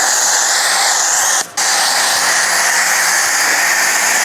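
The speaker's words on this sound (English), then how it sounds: "they kind of just pressure wash right off" A pressure washer rinses foam and bugs off a Honda Civic Type R, a loud, continuous close-up hiss of spray. The hiss breaks off briefly once, then resumes at full strength.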